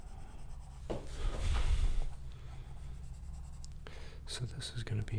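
A pencil scratches and rubs across paper in close, uneven strokes while the point is twisted and rolled, with a louder scraping burst early on and shorter crisp strokes near the end.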